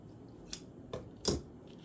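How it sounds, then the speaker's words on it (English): Scissors trimming excess material off a handmade shabby chic gift tag, giving three quick, crisp snips spaced closely together, near and fairly quiet against a hushed room with no talking. "I have this little one right here, so I'm going to trim this off."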